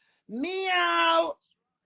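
A human voice mimics a cat's meow in one drawn-out, close call of about a second, rising and falling with strong harmonics, alone against silence.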